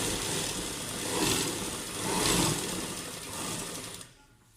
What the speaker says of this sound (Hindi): इसके ऊपर एक सिलाई लगानी है।